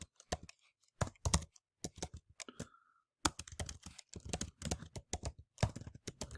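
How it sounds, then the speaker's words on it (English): Keys clatter on a computer keyboard in quick irregular bursts of close, crisp clicks, broken by short pauses. "I can type here."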